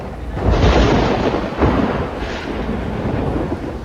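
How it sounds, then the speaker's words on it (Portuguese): A deep, rolling thunder rumble swells loudly within the first half second and keeps churning for several seconds, with a second surge near the middle, heard on its own without voices. "Nesses aplicativos tem trovão?"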